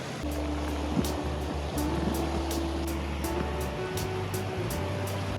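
Fast-flowing Nanaimo river rushing in a steady broadband roar, close and continuous, with a low engine-like hum mixed underneath.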